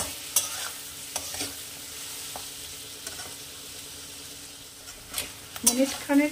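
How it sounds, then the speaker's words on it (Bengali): Chopped tomatoes, green chillies and spices fry in a pan for paneer butter masala, with a low sizzle under spaced spatula scrapes and a few louder clinks near the end. "এগুলো সব একসাথে আমি কিছুক্ষণ ভাজবো"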